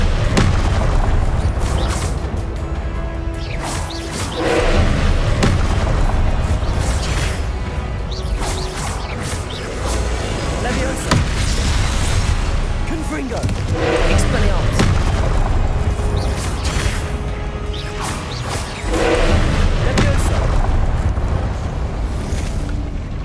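Confringo blasting spells from Hogwarts Legacy, with loud booming explosions and crashing bursts over a constant dense game soundscape, and voices speaking through it.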